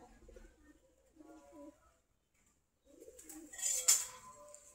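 Domestic pigeons of the local Giribaz breed coo softly in a couple of low, throaty bursts at close range, with quiet gaps between them and a brief fluttery rustle.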